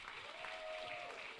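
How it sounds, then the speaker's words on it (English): Faint, distant applause from a first-year university orientation crowd welcoming a speaker, a soft even patter of clapping with a thin tone running beneath it. "give her a round of applause"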